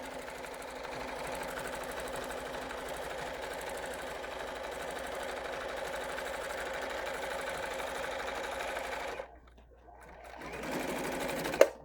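A sewing machine stitches a quilted table runner in a steady, rapid rhythm for several seconds, then pauses briefly before starting up again, close and clear.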